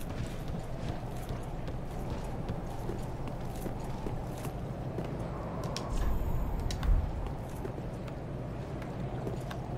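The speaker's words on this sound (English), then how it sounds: "I hear somebody stomping around." Footsteps in Dark Souls 3 as someone stomps around: heavy, irregular thuds and clomps in a windy, rumbling space, with one louder impact near the end.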